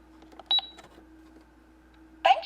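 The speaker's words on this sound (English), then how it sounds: "today I'm gonna show you this McDonald's cash register" Electronic beeps and a short jingle from a McDonald's toy cash register, a few bright tones near the start and a louder burst at the end, heard close up with no talking.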